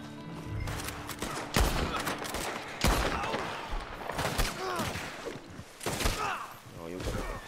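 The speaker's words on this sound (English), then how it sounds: "They will shoot you and a stray bullet can hit the bounty" Gunfire in Red Dead Redemption 2 during a bounty hunt: sharp shots crack out irregularly, some in quick clusters, among thuds and impacts. A voice talks beneath and between the shots.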